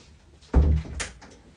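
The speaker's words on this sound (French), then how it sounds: "Je vais juste fermer la porte et je reviens." A door swings shut indoors with one solid, close thud, followed by a softer rattle of the latch settling, then quiet.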